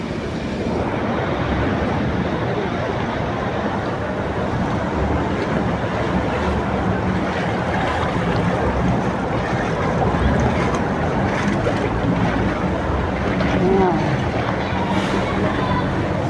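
A jeep drives through deep monsoon flood water on a city street, pushing a steady rushing wash of waves, loud and continuous with wind noise throughout and no clear talk.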